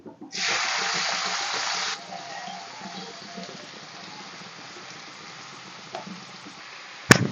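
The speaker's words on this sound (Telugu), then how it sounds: "దీంట్లోకి ముందుగా కట్ చేసి పెట్టుకున్న ఉల్లిపాయ ముక్కలు పచ్చిమిర్చి వేసేసుకోవాలి" Chopped onions and green chillies hit hot oil for a masala egg curry, a loud burst of sizzling that drops after a couple of seconds to a steady low frying hiss, ending with a sharp clatter.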